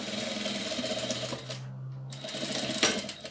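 Sewing machine stitching a seam on a doll project, running steadily, pausing briefly, then resuming for a short backstitch; close and fairly loud with no talk.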